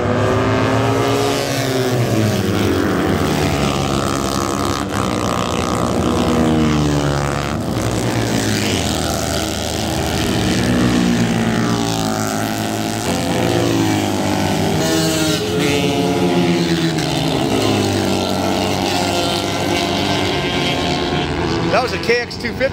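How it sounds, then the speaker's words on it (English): Engine roar passes trackside at a vintage motorcycle road race, apparently a Kawasaki KX250 motorcycle, loud and sustained with rising and falling pitch as machines sweep by, blending with other bikes. "That was a KX250, I think."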